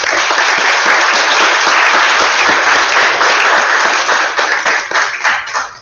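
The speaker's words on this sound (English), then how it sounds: "Let's have a big round of applause for our guests." Loud, close applause from students in a school audience, a thick steady burst of clapping that begins to thin and break up in the final second.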